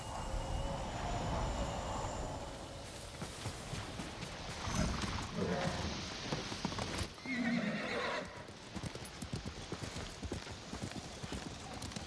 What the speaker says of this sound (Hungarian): Ja, egy másik ló.